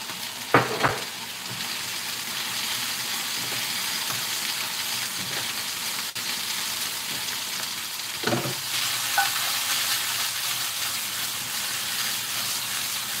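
Capsicum sizzling in a hot pan while making chicken chow mein, a continuous close frying hiss with a few sharp clinks and scrapes of stirring.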